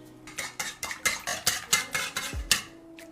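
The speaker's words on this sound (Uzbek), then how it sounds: "venchikda ozgina ko'pirtiramiz" A whisk beats three eggs in a bowl for dough, giving about ten brisk, evenly spaced metallic clinks and swishes close up, with no voices.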